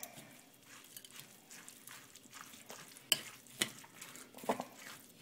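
Muesli is folded into yogurt in a bowl, with quiet, wet scraping strokes and a few sharper clinks of a spoon against the bowl, close and fairly faint.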